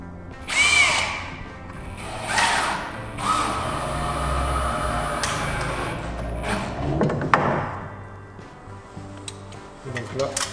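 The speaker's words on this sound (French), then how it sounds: "Je vais visser l'angle comme il faut." A power screwdriver drives screws into the corner of a flat-roofed wooden garden shed during assembly, whirring in several short bursts separated by pauses, close and fairly loud, with a voice speaking in between.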